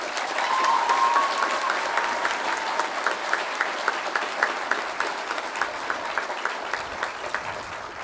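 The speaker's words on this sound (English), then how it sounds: "Will you all join me in a moment of applause for the faculty and staff of the campus?" Commencement crowd applauding faculty and staff at a college graduation ceremony, a broad sustained wash of many clapping hands with sharper individual claps standing out, steady and fairly distant, fading slightly toward the end.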